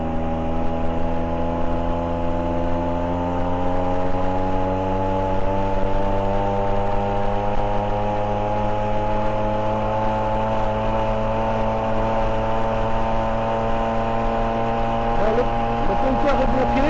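A GAC SP96 Grand Turismo engine drones loudly at full throttle, its pitch climbing steadily as the car accelerates, heard from inside without a break.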